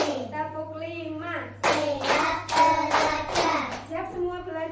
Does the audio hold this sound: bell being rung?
no